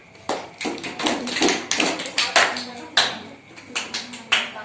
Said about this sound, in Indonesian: tepuk tangan dulu sama untuk ini